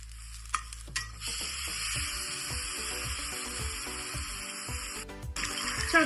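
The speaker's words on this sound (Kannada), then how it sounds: "ಆ ಪೇಸ್ಟ್ ಆಡ್ ಮಾಡ್ಕೊಬಿಡೋಣ." Masala paste for chicken masala hits a hot pan and sizzles steadily, with repeated scraping and stirring strokes in a regular rhythm, close and clear, with no talking.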